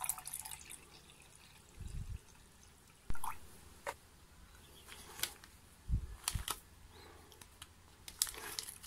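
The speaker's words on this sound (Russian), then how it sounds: "Наливаем воды столько же." Water is poured into a plastic protein shaker for a strawberry protein shake in a home kitchen, heard as faint splashes and gurgles with scattered drips and knocks against the container, fairly quiet and close.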